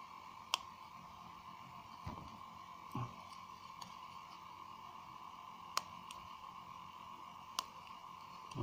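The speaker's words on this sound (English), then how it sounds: "Poke some holes first, since the staple is no longer sharp," A blunted, cut-down staple pokes holes in wood, giving a few sharp, faint clicks spaced out over a quiet background, with a couple of duller taps near the middle.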